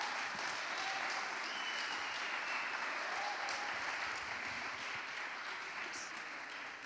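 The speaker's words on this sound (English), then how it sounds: "let's give them a round of applause for what they were able to pull off" Sustained audience applause at a coding bootcamp demo day in Lisbon, a thick, even wash of many hands clapping throughout without pause.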